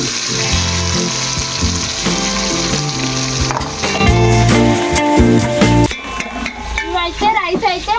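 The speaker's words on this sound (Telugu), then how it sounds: "ఇప్పుడైతే కొత్తిమీర పుదీనా వేసుకున్నా కొంచెం" Coriander and mint leaves fry in a tempering for bagara rice, giving a steady, close sizzle with stirring and scraping in the pan. Background music plays throughout.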